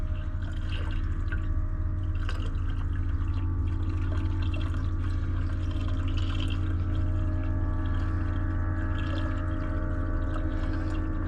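Leftover liquid, roughly a quarter to half gallon, poured from a tub into a bucket, a steady trickling and dripping stream over a constant low hum, with no talking.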